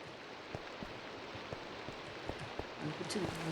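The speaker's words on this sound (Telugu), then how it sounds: "వర్షం పడుతున్నట్టుంది, నో డౌట్." Rain in the Minecraft video game falls as a steady, soft wash of patter that continues evenly throughout at low volume, with faint scattered drips.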